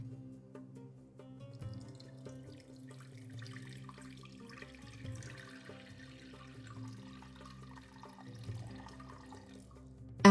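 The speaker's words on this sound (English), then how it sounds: "After adding the water" Water is poured into a slow cooker pot holding prunes, butter and ground cinnamon for a Moroccan beef tagine, a soft continuous trickle and gentle splashing at close range, with no talking.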